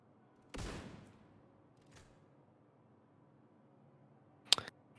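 Gunfire in The Division 2 video game: a loud burst of shots trails off quickly, then a single sharp crack comes near the end after a long quiet stretch.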